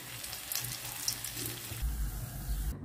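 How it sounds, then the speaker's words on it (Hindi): Pakoras dropped into hot oil in a home kitchen to make kadhi pakora, a continuous close hiss and sizzle with faint crackles and a low rumble toward the end, with no talking. "ऑयल गरम हो चुका है तो अब इसे हम डालेंगे पकोड़े।"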